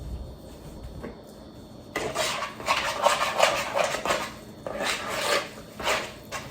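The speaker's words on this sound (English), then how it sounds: "And let's stir this up and see how it looks." A Dungeness crab deviled egg filling being stirred in a bowl, the utensil clinking and scraping against the dish in uneven bursts after a quiet start, close and fairly loud.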